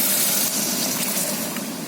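Water poured from above into a cooking pot for a vegetable saalna, a bright splashing gush that runs steadily for under two seconds with no talking.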